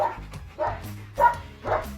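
Dog barking at a yard gate, four moderate barks in an even rhythm, fairly close and alone with no talk.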